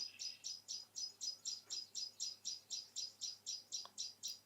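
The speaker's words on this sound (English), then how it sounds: "the bird song might be a bit too intense" Dense birdsong fills a quiet outdoor ambience, with rapid, evenly pulsing high chirps repeating about three times per second, steady and moderately close, with no voices.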